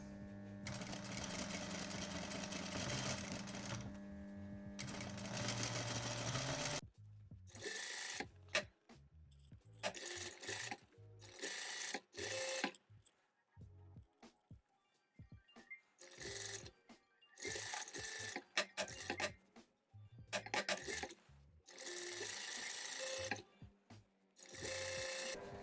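A sewing machine stitches stretched elastic onto smocked pants, running in loud, fast bursts of several seconds separated by quiet pauses and a few small handling clicks.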